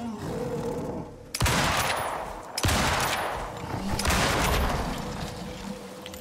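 Rifle gunfire in the survival game Icarus, set in a snowy glacier area: a few loud, close shots or short bursts, each followed by a long rumbling decay, with no speech.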